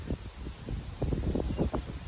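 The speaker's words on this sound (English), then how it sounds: "Okay, that's definitely windy." Gusty wind buffets the microphone in low, rumbling bursts that swell and fade across the clip, with no voices.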